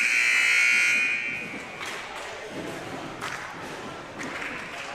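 A loud electronic warning buzzer blares for about a second and a half during an 8th grade girls basketball game, then fades into gym crowd noise, cheering and scattered thuds.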